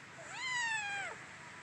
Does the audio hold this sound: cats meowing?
yes